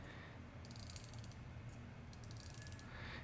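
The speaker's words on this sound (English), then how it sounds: "It is full stainless steel, including the bezel, and the clicks are so satisfying." A stainless steel Seiko Prospex dive watch bezel is turned, producing rapid bursts of fine metallic ratcheting clicks in two runs, close and faint against a quiet background.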